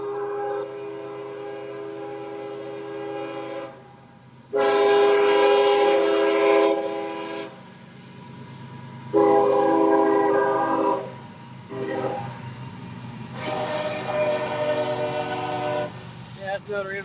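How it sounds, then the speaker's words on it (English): An intermodal freight train rolls past at Waycross, its loud horn sounding in several long blasts over the rumble of the passing cars, with someone speaking at times. "Yeah, that's another intermodal coming right now."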